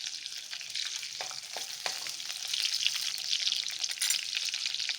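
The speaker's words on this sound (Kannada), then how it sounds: "ಮೊದಲಿಗೆ ಸ್ವಲ್ಪ ಬೆಳ್ಳುಳ್ಳಿ ಫ್ರೈ ಆಗಲಿ." Garlic sizzling and crackling in hot oil in a kadai, a steady close frying hiss with small pops and occasional stirring, alone with no talk.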